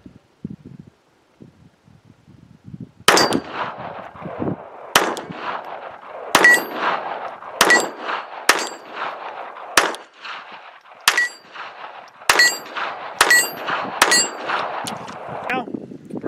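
A Ruger LCP II .22LR pistol fires about a dozen sharp, ringing shots in an uneven series, some spaced and some in quick pairs, each crack loud and close against an otherwise quiet outdoor range.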